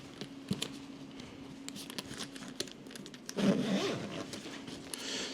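A stiff zipper on a new Lone Rider motorcycle tail bag is pulled open in a short rasping burst, close by, after a stretch of quiet handling and rustling.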